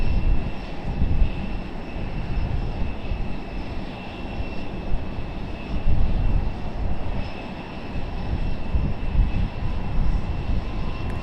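Airplane on final approach at Raleigh-Durham International Airport, a steady broad engine roar that holds throughout with slight swells, heard continuously with no talk.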